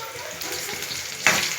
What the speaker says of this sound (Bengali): এবারে পকোড়াগুলো ভাজা হচ্ছে লাল লাল করে কড়া কড়া করে ভাজা হচ্ছে